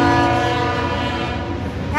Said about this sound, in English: Have to excuse the train.